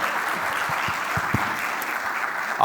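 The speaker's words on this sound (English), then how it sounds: "Yes, just a little applause." A conference audience claps as a panelist is welcomed to the stage at a marketing keynote, a steady and fairly loud round of applause that runs throughout, with a few brief low thumps mixed in.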